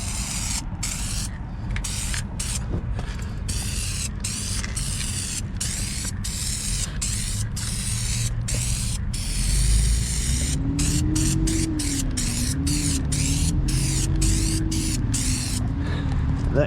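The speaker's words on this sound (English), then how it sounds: "So let's go ahead and get a little spray in here, a little touch up" Steady hissing spray of oil undercoating runs continuously for the whole stretch, close and loud, with a faint low tonal hum rising partway through.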